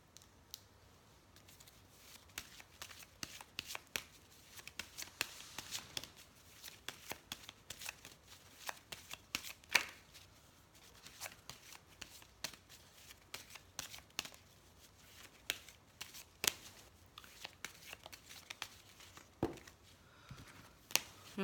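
A deck of oracle cards being shuffled by hand: steady riffling and sharp card flicks and snaps, fairly faint and close, with no talk.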